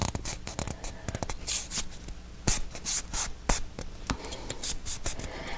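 Paper is folded along a scored line by hand, producing close, irregular crisp rustles and sharp creasing snaps at a soft level with no speech.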